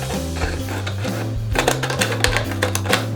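A plastic bottle being cut to make a vegetable planter, with a low droning hum, then a rapid series of crisp cutting crackles and snaps in the second half.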